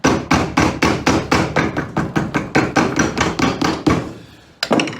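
A hammer strikes a leather boot sole during a Tricker's fiddle waist boot sole repair: about eighteen sharp, evenly paced close blows in a steady rhythm, a brief pause, then one more hit.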